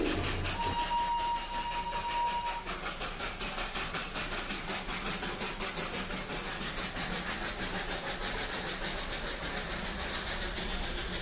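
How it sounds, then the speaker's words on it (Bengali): Darjeeling toy train drawing near in a town traffic jam: a continuous rumbling engine and rail clatter with a rhythmic pulsing beat, steady and fairly loud throughout, with a brief high tone near the start. "মেবি হচ্ছে টয় ট্রেন আসছে।"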